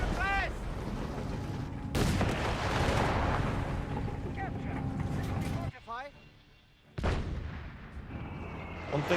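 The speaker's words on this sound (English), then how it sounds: "he's going to detonate the other mine" A mine detonates in a war video game, with heavy booming blasts and gunfire-like cracks under a constant commentator's voice, plus a short pause before another sharp hit.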